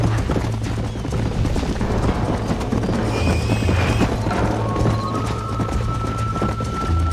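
A horse gallops in Red Dead Redemption, its hooves pounding in a steady, rapid, loud rhythm over a busy game soundscape of wind and clatter.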